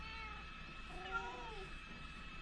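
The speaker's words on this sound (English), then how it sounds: "That was a very mournful meow there." A cat lets out a single drawn-out, mournful meow in the game SoarvivorCraft. The meow rises and falls midway through, heard fairly faintly over a steady background bed.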